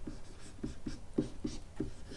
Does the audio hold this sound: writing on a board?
yes